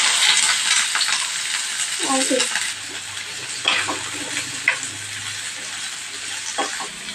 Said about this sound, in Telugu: గోల్డెన్ బ్రౌన్ కలర్ వచ్చేంత వరకు వేయించుకొని దాన్ని పేస్ట్ చేసుకోవాలి